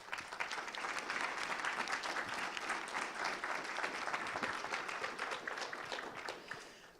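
Applause at a school board meeting fills the room, a sustained, fairly distant wash of clapping that fades near the end.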